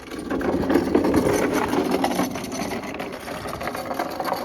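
A plywood scrap lumber rack on casters rolls across a shop floor, giving a steady, close wooden rumble and rattle that runs the whole time, slightly louder at the start.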